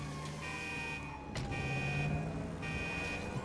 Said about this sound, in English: the alarm is going off.